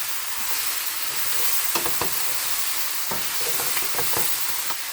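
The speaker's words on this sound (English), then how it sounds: "Give it a stir." Sausage sizzles and fries steadily in a hot pan while a utensil stirs it, giving a few sharp scraping clicks over the constant close hiss; no talking.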